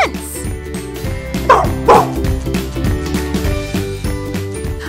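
A cartoon dog barks twice in a children's show, with short yappy woofs over background music and other sounds.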